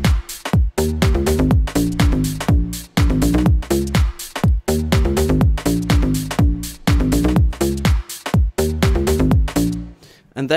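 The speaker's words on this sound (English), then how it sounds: "a really nice, clean future bass sound" A clean, synthesized future house bass made in the Serum synthesizer, playing a punchy rhythmic pattern of short detuned stabs with pitch drops, looping steadily and loud with no voices.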